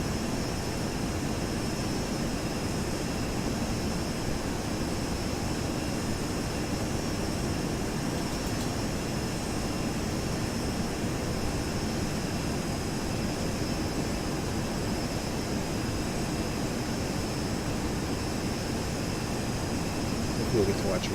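A FlyJSim 737-200 airliner's jet engines in a flight simulator game: a steady, loud, unbroken roar with a faint high whine held evenly throughout.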